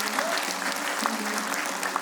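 Concert audience applauding at a Kazakh traditional report concert, a loud continuous roar of many hands clapping, filling the room evenly from start to finish with a faint tonal hum underneath.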